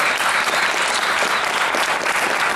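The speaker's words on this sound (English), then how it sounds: "Please give a round of applause." Audience at a pre-concert lecture applauds the guest artists, a loud, continuous round of clapping from a seated crowd.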